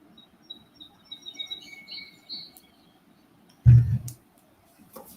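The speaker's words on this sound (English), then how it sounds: "It's actually birds, nature sounds." Faint bird chirps and tweets play as a recorded nature-sounds track, sparse and fairly distant, broken by a brief loud thump partway through.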